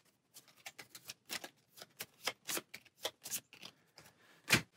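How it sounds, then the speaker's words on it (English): A deck of Aeons End turn order cards is shuffled by hand, giving a quick series of soft riffling slaps and flicks in an uneven rhythm, close and fairly quiet with no talking. "our turn order cards, give them a shuffle"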